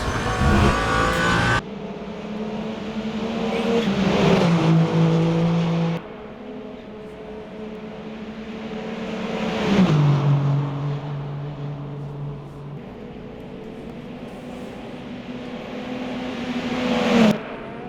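Race car engine roaring down the Mulsanne straight in the Le Mans Ultimate game, sustained loud revving that climbs through the gears with sharp drops at each upshift, alone with no talk.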